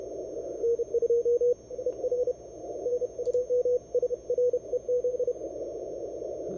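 Morse code CW signal from contest station OH8X heard on a ham radio during a CQ World Wide DX contest, rapid keyed tone bursts in quick bursts and pauses over a hiss of band noise.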